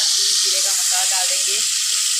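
Hot oil sizzles loudly and steadily in a cooking pot for a goat meat curry, a dense continuous hiss with faint speech murmuring underneath.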